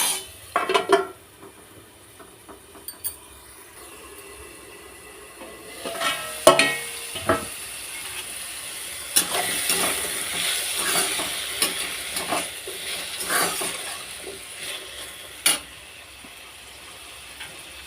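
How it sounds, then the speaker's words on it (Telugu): Cucumber pieces fry in a pan for a village-style cucumber tomato pachadi: a soft, steady sizzle with intermittent clinks and scrapes of stirring, starting quietly and growing busier, with no voices. "ఈ విధంగా ఫ్రై చేసుకోవాలి"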